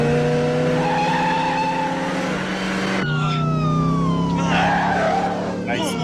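A car drifts with its tail out during a movie chase scene, tires squealing and engine droning loudly under a swell of music, with voices and effects layered in the mix.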